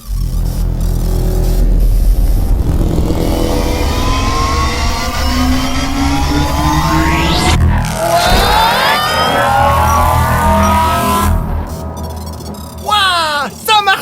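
A car engine revs and accelerates loudly, pitch sweeping upward as it pulls away, with whooshing effects and a final burst of sound near the end.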